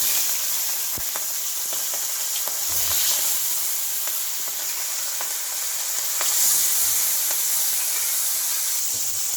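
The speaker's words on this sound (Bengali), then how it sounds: "তেল গরম হয়ে গেছে, এটা চিংড়ি মাছগুলোকে ভেজে নেব।" Salt-and-turmeric-coated shrimp fry in hot mustard oil in a kadai, giving a loud, steady sizzle with scattered pops and crackles throughout. No one speaks.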